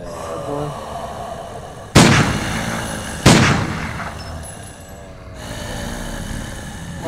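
Two sharp grenade blasts in the VR video game zGame, about a second and a half apart, each bursting loud and then trailing off into a rumbling background.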